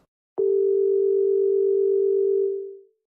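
A telephone dial tone sounds as a call is placed: a loud, steady hum that starts abruptly after a short silence, holds evenly for about two seconds, then fades out.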